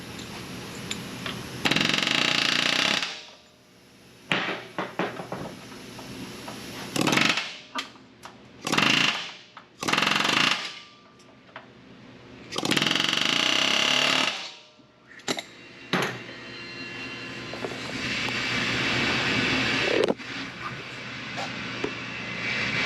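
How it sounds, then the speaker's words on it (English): An air hammer knocks rivet heads off a Squarebody truck frame in loud, close bursts of rapid pounding, separated by short pauses, ending in a longer sustained run. "I typically use an air hammer, go underneath the hood, come down, and knock those off."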